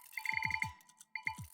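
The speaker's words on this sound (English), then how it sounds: "I just got a text message and my phone is nowhere nearby." A phone's text message notification chimes in a snowy mountain setting on Christmas Eve: a short run of bright tonal beeps, a brief pause, then two more tones, faint and alone.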